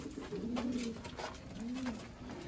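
Sialkoti green-eyed breeder pigeon cooing in a steady, low, rolling rhythm, several warbling coos close by with a faint background hiss and no talk.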